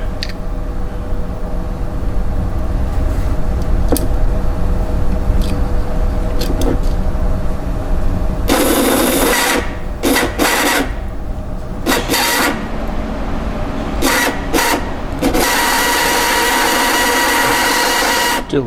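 A Hornby R751 BR Blue Class 37 model locomotive motor whirs noisily. A low, quieter hum builds into loud, rattling, high-pitched spinning bursts that stop and restart several times, close up.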